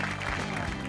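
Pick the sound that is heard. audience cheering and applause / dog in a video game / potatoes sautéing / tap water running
audience cheering and applause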